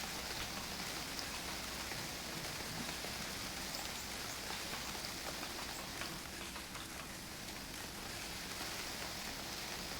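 Steady rain falls across a wilderness in the survival game UnReal World, a dense, even hiss of drops on the ground and foliage that holds at the same level throughout without pause, and nobody speaks.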